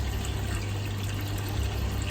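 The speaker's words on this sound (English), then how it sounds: "most of that water noise is just the water coming out of that hose into the sock there." Water pours steadily from a hose into an aquarium filter sock with a constant splashing flow over a low mechanical hum, unbroken and fairly quiet.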